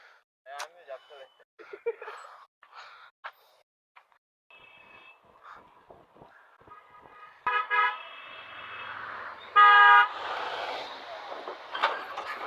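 Car horns honk intermittently in busy traffic during a group bicycle ride, with short bursts and a few longer loud blasts near the end, heard among street noise and voices talking.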